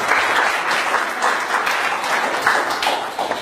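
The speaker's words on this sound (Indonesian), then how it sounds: "tepuk tangan buat Anda semuanya" Steady applause from an audience at a business seminar, many hands clapping densely and evenly for the whole stretch, close and fairly loud with no voices over it.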